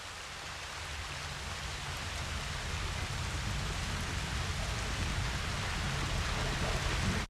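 Steady rain pours down in a dense, even hiss that grows slightly heavier, with no voices.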